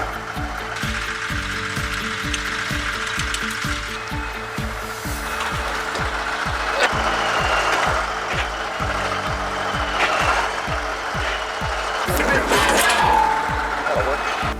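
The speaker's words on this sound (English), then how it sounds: "It can be tricky to get the auger pulled into just the right spot" A grain auger is being maneuvered into place for loading soybeans into a semi, giving a steady rhythmic mechanical clatter of ratcheting, gear-like clicks that runs throughout, fairly close, with a brief louder burst of rattling near the end.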